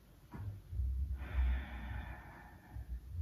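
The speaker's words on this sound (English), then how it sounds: "Breathing deeply." Deep breathing during a yoga practice, with a slow, fairly close inhale-and-exhale rush of air that stands out clearly over a low background rumble.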